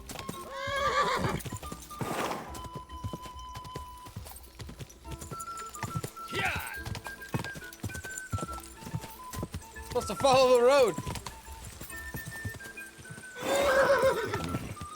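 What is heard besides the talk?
horse galloping and neighing, video game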